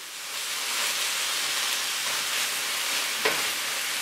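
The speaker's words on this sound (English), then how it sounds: "Okay guys, so here's my cabbage. It's frying now" Cabbage and bacon fry in a pan with a steady, close sizzle and hiss. One brief click sounds near the end, with no voices.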